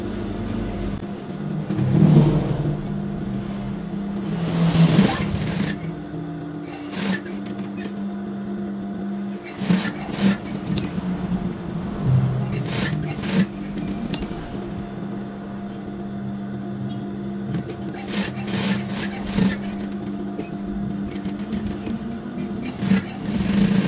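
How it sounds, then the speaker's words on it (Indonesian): A sewing machine topstitches closely around a patch pocket with a curved folded bottom on a koko shirt, running in several bursts of steady whirring between pauses against a constant low hum. "kita jahit setik atau dijahit mepet sekelilingnya"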